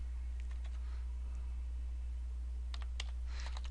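Keys on a computer keyboard tap faintly as text goes into the Windows Run box, a few light clicks early and a quicker cluster near the end, over a steady low hum.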